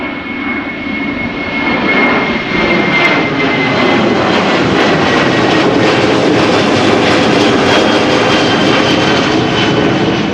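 A KLM Boeing 737 jet roars steadily at Amsterdam Schiphol Airport on a windy day, a loud, sustained engine rumble with a high whine running through it, holding close and strong for the whole stretch with no voices.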